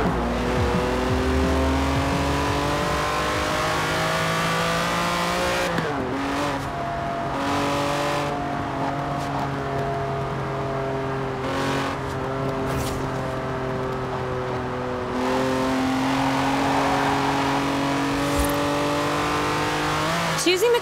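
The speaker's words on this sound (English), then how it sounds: "Right, this car just wants to go. So go, blast past that speed camera." A Lamborghini Countach races in the video game Forza Horizon, its engine droning loudly and shifting pitch through gear changes over about twenty seconds, with a voice talking over it.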